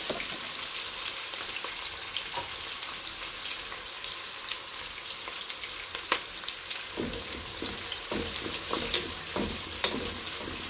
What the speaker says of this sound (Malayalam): ഈ സവാള നമുക്ക് ഇതിട്ടിട്ട് പൊരിച്ചെടുക്കാം.